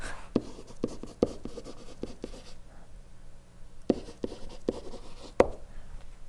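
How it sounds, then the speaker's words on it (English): Handwriting on a surface while solving an optimization problem: quiet, irregular taps and scratchy strokes come in short bursts with brief pauses, close and soft, with no talking. "let's just write it at this value"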